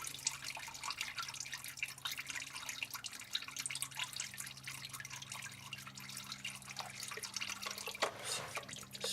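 Transmission fluid from a Dodge Dakota drips and trickles steadily into a drain pan, a soft continuous liquid patter with no talking.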